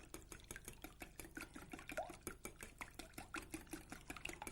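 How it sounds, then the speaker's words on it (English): Eggs are whisked into a lemon mixture in a bowl, a quiet, quick, regular clicking and tapping of the whisk close by with no talk. "I'm just going to whisk the eggs into the lemon"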